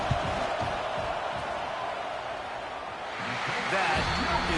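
Stadium crowd at a college football game roaring steadily through a field goal attempt, a dense sustained wash of voices that swells louder near the end, with commentary over it.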